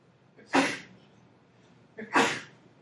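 Two sharp sneezes burst out about a second and a half apart during a math lecture, each loud and brief against a quiet room.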